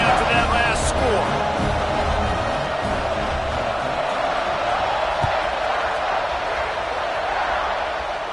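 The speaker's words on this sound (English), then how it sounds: "this crowd is buzzing after that last score" A steady, loud crowd murmur fills a stadium in a college football video game, a continuous broad roar with occasional louder swells.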